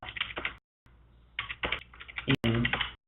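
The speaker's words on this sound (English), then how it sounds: "you just have to type, maybe a few numbers" Close, quiet keystrokes on a computer keyboard entering a few characters, a short run of clicks, a brief gap, then a few more taps.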